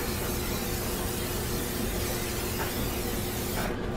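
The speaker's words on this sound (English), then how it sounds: "I always spray my wings with a little oil" A steady hiss of cooking oil spray from a nearby can onto chicken wings runs for several seconds, then cuts off abruptly.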